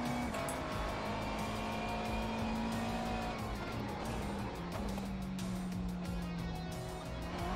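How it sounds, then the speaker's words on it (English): Race car engine in a VR racing game on the Montreal circuit, a loud steady high whine that shifts pitch slightly, with a faint tire squeal, continuous throughout with no talking. "So I think I just need a little more engine sound here."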